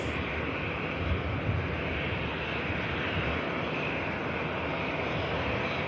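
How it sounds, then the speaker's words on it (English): A Qatar airliner touches down at Manchester Airport, a steady broad engine roar heard from a distance and holding evenly throughout, with no voices. "What a great touchdown that was."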